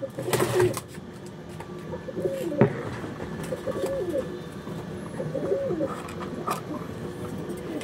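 Andhra Kalanka pigeons coo in repeated soft, rolling phrases close by, several calls spaced through a gentle background of faint chirps and ambient noise.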